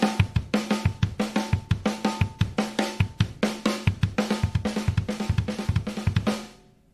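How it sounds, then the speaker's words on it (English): A drum kit plays a fast 2-and-2 pattern split between snare and kick, steady rapid hits alternating in pairs, loud and close with no talking. "The easiest way to start to get comfortable with them is to do them just on the snare and the kick"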